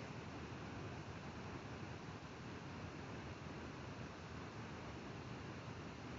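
Steady, full-band rush of falling water at Elk Creek Falls near Big Tree Park in western Oregon, a constant roar with no breaks and no voices.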